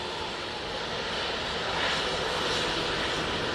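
A Ryanair airliner at Manchester Airport gives off a steady, moderately distant engine rush, swelling slightly midway and holding without pauses.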